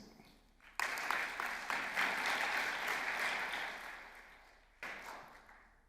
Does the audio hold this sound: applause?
yes